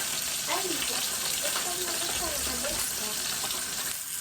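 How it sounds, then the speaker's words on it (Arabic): Onions sizzle in hot oil in a pan on a gas stove, a steady broadband frying hiss that runs the whole time, with faint clinks and a low rumble partway through. "حطينا شوية طبعا زيت سخن على البوتاجاز زي ما انتم شايفين كده. هننزل بحبايتين بصل كده اهو"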